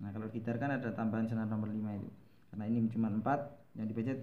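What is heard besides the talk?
None of the usual background noises is heard.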